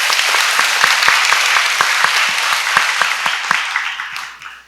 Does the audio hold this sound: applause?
yes